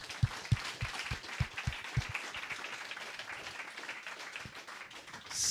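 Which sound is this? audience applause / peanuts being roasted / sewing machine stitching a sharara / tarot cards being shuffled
audience applause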